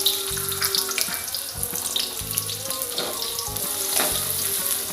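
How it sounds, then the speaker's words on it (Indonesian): Garlic and shallots dropped into hot frying oil in a home kitchen, a bright, dense sizzle that stays loud and steady with a few clinks and stirs. "Nih kebetulan saya udah manasin minyaknya. Kita masukin bawang putih,"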